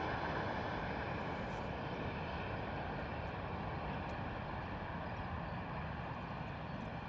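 Boeing 737 arriving from Malaga at Bristol Airport on a damp morning, flaps extended, gives a steady, loud broadband jet roar that holds evenly through the whole stretch with no voices.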